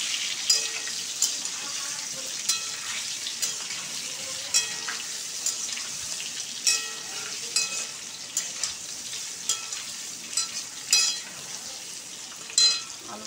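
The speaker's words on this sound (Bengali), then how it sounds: "আলুটা ভাজছি, একটু লাল লাল করে আলুটা ভাজতে হবে।" Potatoes fry in a pan at home in a kitchen, a soft continuous sizzle punctuated by regular stirring scrapes and clinks, with faint running water in the background.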